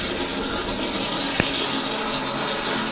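A toilet cistern refills through a newly fitted fill valve, giving a steady broadband hiss of running water that holds an even level throughout, with one brief click partway through.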